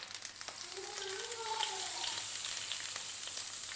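Koli fish dropped into hot oil to fry whole, a steady close sizzle and crackle with a brief tonal whine early on, continuing evenly.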